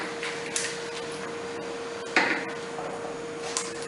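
A silicone spatula scrapes around the sides of a pan of melted chocolate fudge sauce made with condensed milk and cream. Soft, steady scraping and stirring sounds come close up, with a few light knocks and a constant background hum.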